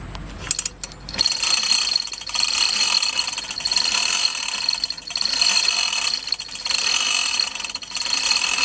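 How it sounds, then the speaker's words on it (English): A ratchet wrench tightens a fitting on an exclusion device, clicking steadily in long continuous runs with brief pauses between strokes, close and loud with no voices. "Now we have to tighten with a wrench."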